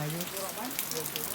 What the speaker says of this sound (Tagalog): Nabot na kami ng malakas na ulan guys.